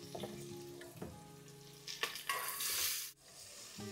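Green chillies and onions fry in oil in a pan, a steady sizzle with a few stirring knocks that swells into a loud hiss before cutting off sharply.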